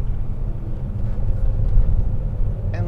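VW Turbo Beetle driven hard through a corner on a road test, a loud, steady low engine drone with rumbling tyre and road noise, rising slightly in the middle, brief higher whine at the end.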